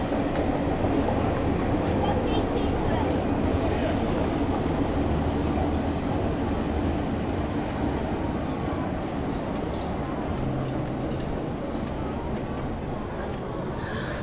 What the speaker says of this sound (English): Ah, there's your train.